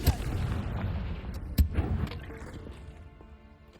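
Confringo spell blasts from Hogwarts Legacy: a sharp explosive burst at the start and another about a second and a half in, each followed by a fading rumbling tail, moderately loud with no talk.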